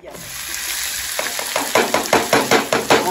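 Chopped onion sizzling in a hot frying pan while making cabbage fritters, a steady hiss with a run of regular scraping stirring strokes in the second half, close and fairly loud.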